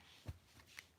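A few quiet, quick riffles of tarot cards being shuffled, soft and close, with near silence between them.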